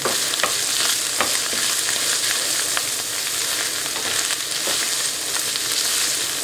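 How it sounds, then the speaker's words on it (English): Spaghetti tossed with tongs in a pot, giving a steady, loud hiss of sizzling and stirring with faint clicks of the tongs throughout and no voices. "Make sure you use the tongs to toss all the way."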